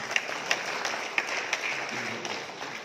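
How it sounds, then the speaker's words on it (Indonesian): An audience at a party inauguration event applauds the regent candidates, a steady wash of crowd clapping with a few sharper claps standing out, moderately loud throughout. "Tepuk tangan untuk calon bupati."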